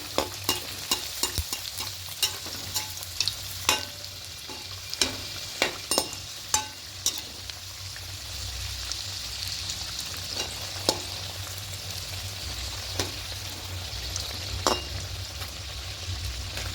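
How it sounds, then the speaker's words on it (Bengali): Egg puris frying in hot oil in a pan, a steady loud sizzle with bubbling crackle and repeated sharp clinks of a utensil against the pan, no voices. "তেলটা গরম হয়ে এসছে এবার একে একে দিয়ে দেব"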